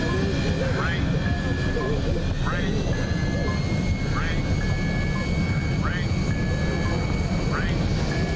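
An airliner landing blind inside a volcanic ash cloud, dramatized for film: a loud, constant engine and cabin roar fills the whole stretch, with a rising chirp-like tone recurring roughly every second and a half.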